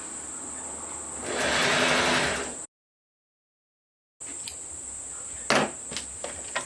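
A sewing machine runs a zigzag stitch along the raw edge of swimsuit fabric in two close bursts of rapid whirring, split by a short silence, with light clicks and knocks in the second burst.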